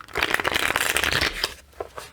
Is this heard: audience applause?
no